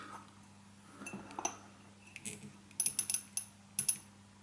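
A motorcycle fuel injector, dipped in cleaner on a test rig, clicks open in a quick irregular series of small sharp metallic ticks over a faint steady hum.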